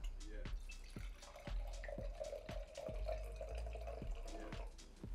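White wine pours into a glass for a spritzer, a steady liquid trickle with regular drip-like taps, close and quiet, with no talking.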